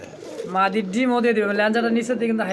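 Danish and Lahori pigeons coo in a low, throaty, wavering call, close and clear, a few rolling coos in quick succession, with someone speaking nearby.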